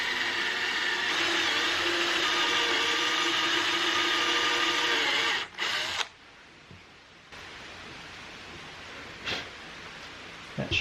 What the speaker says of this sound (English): It's a bigger dowel, so I'm using a bigger drill bit.